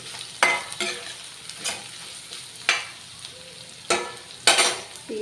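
Tempering sizzles and fries in a pan before ponnaganti greens are added, with repeated sharp stirring scrapes of a spoon over a steady close frying hiss and no talk.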